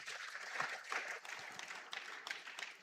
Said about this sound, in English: Clap for them as they take their seats.